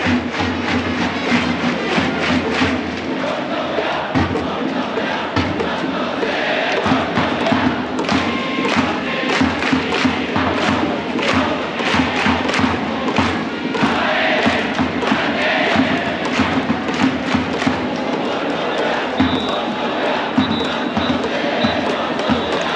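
A packed Japanese baseball crowd at Kyocera Dome in Osaka, with the two teams' bands and cheering sections at an Orix Buffaloes game, keeps up a loud, dense roar over steady, rhythmic drum thumps throughout.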